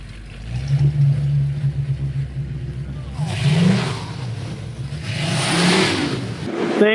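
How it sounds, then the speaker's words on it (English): The old engines of a 45-year-old houseboat run with a steady low rumble, then rev up and surge louder in waves, with voices faintly mixed in. "Hey, fire those engines up for a second."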